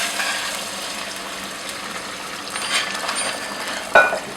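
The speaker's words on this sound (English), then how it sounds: "we are ready to add the hot water" About two cups of hot water are poured into a pan of cooking meat with a soft hiss and sizzle, building briefly, followed by a sharp clink near the end.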